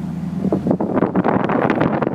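A custom-tuned 550 hp 2001 Ford Lightning SVT pickup accelerating hard from a stop, its engine and exhaust roaring loud and close with a rising, buffeting rush of wind noise throughout.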